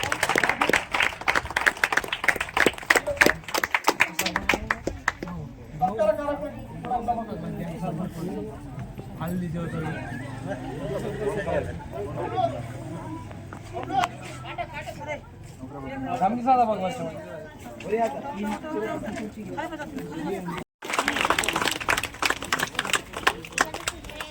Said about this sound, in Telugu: వేదికపై గట్టిగా చప్పట్లతో స్వాగతం